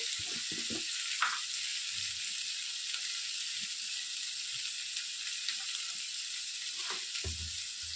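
Steady sizzling of cucumber pieces frying in a pan, with occasional soft stirring knocks and scrapes.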